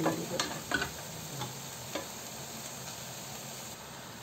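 Jute greens curry being stirred and simmered in a pan in a home kitchen, soft sizzling under a few sharp utensil scrapes and taps early on, then a quieter steady bubble.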